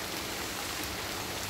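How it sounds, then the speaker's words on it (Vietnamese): Heavy rain with no wind falls on banana leaves in Arizona, a dense, even patter that is fairly soft and steady throughout. "hôm nay ổng mưa mà mưa mưa lớn đó nè, mưa lớn mà lại không có một miếng gió nào hết"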